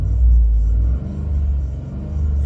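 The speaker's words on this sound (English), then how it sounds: "I'm going to rev it up here." A 2008 Hummer H2 SUT engine revving: a deep, steady low rumble with a slight dip and swell in intensity, close and fairly loud, with no aggressive exhaust note.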